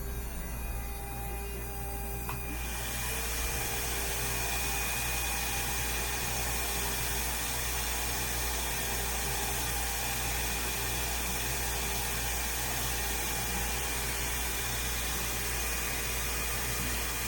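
A vacuum's steady, droning motor hum starts up after a couple of seconds and runs continuously at an even level, loud and close, with no voices.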